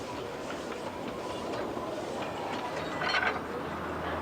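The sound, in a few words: Puffing Billy steam tourist train on narrow gauge line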